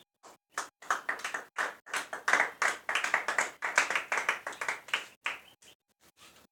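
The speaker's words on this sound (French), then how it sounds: "On acclame le Seigneur Jésus pour lui" A church congregation claps together in praise, producing a run of sharp, fairly quick hand claps that swell in the middle and thin out to a few scattered claps at the end. No one speaks.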